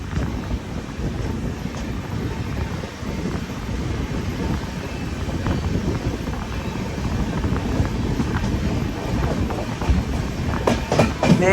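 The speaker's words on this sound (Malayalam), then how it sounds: "10:05 ട്രെയിൻ ഇതാ വർക്കല ശിവഗിരി സ്റ്റേഷനിലേക്ക് എത്തിക്കൊണ്ടിരിക്കുകയാണ്." A train arrives at Varkala Sivagiri station with a steady rumble and rattling clatter from close by. The noise grows slightly louder toward the end, with sharp clicks near the finish.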